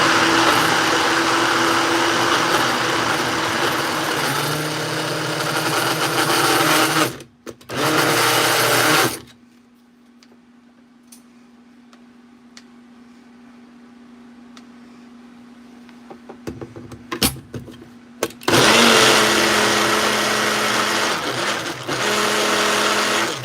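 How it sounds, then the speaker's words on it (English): An electric protein shake mixer whirring loudly in two bursts, then stopping, then starting again near the end, with quiet room noise between runs. "ASMR protein mixer"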